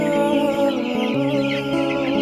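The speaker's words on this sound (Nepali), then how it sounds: "कुखुरा" Chickens cluck and murmur steadily at close range, a dense, continuous flock chatter with no pauses.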